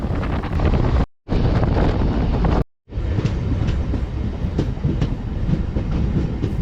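A MEMU passenger train runs between Renigunta and Nellore, a loud continuous rumble of wheels and rushing wind with faint rhythmic clatter, broken by two brief dropouts.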